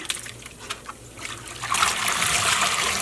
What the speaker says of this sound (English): And now I'll fill the basin with water.